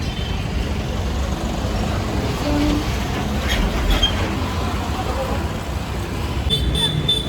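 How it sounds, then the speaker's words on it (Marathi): A metro train passes on the track overhead, a continuous loud rumble and roar of wheels and traffic noise running through the whole stretch, with a faint squeal near the end and a voice speaking over it. "माझ्या वरतून मेट्रो जाते"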